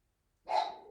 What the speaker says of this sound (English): I don't know if you can hear him barking.